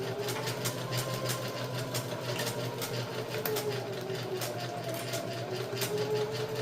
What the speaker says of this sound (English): Sewing down the side here.